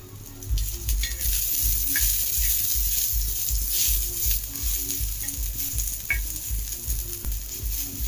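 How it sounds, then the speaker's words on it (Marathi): Onion fries in oil in a pan for chicken curry, a loud continuous close sizzle with occasional stirring scrapes and no voices. "आता मस्त कांदा भाजून घेते। तेल टाकते."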